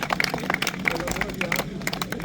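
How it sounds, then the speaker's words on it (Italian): An audience at a karting series grand prix prize-giving applauds the overall second-place finisher holding up a cup, with a dense patter of clapping mixed with crowd babble and a voice talking over it. "Ancora un applauso, mostra la coppa."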